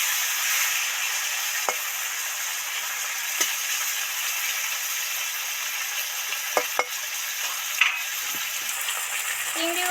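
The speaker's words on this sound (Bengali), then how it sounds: "এবার চিংড়িগুলো ডিপ ফ্রাই করে ভাজা হয়ে গেছে" Prawns deep frying in hot oil give a steady, bright sizzle throughout, with a few brief clicks and scrapes from a utensil against the pan, and no talking.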